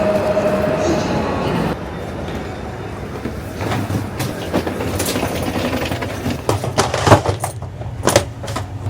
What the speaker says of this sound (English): I took a train from Warsaw to Berlin.